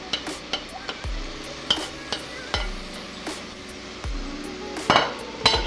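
A spoon scrapes and knocks against a pan as colorful peppers are stirred in oil for chiktay, with several distinct clanks over a soft, steady sizzle.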